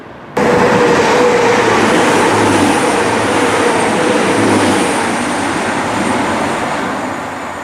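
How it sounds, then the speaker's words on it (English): A six-car train made of two coupled Class 158 diesel multiple units rumbles through Rainhill station on a historic railway line. It arrives abruptly and holds a loud, steady roar with a faint whine before easing slightly at the end. "As you just saw with that 6-car train, those two Class 158 DMUs"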